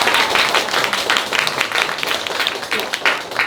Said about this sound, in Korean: 여러분 박수 한 번만 보내주시겠어요?